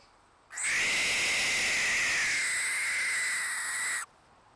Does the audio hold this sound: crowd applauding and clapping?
no